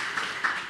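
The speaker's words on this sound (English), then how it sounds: "I think this merits a congratulatory applause" A lecture audience applauds a colleague's promotion to senior lecturer. The brief, steady patter of many hands clapping is heard on its own.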